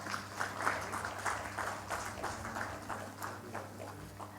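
A conference audience at a heart care awareness event applauds steadily, a dense, continuous patter of many hands filling the hall at moderate distance with no break.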